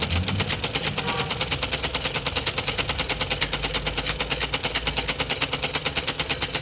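A sewing machine runs a straight seam on a pajama pocket, its needle hammering in a fast, even, continuous rhythm at close range for several seconds.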